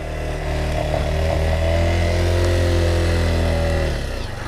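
A Honda CRF230L dual sport motorcycle stuck in flood water, its engine held at a loud, steady high rev close by for several seconds before easing off.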